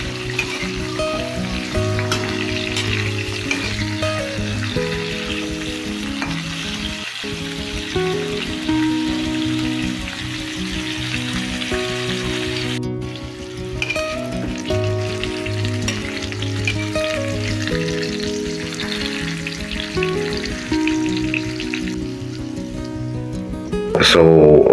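Potatoes and carrots fry in a pan with a steady, close, loud sizzle throughout, with occasional stirring scrapes and a voice talking over it.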